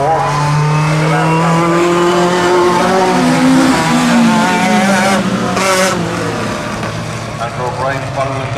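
Race cars on a circuit, screaming engines that rise and fall in pitch as they pass along the back straight in close company, with a commentator talking over the steady loud din.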